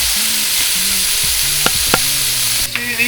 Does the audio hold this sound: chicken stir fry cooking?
yes